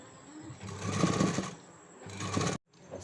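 Sewing machine stitching blouse fabric, running in two bursts of steady whirring with a pause between and a brief restart at the end.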